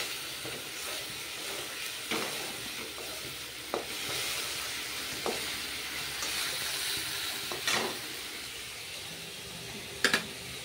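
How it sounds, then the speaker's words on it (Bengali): Thick Bengali biuli (urad) dal, already salted with turmeric, pours into a hot pan and sizzles steadily, with a few sharp clinks of a utensil against the pan standing out over the continuous frying hiss. "ডালটা ঢেলে দেবো"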